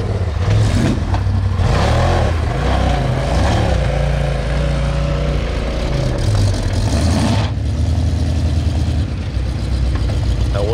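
A side-by-side off-road vehicle's engine runs in gear at a tug of war event, a loud continuous rumble that rises and falls in pitch as the throttle shifts, then settles into a steadier drone.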